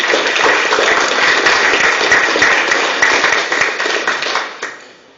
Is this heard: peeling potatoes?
no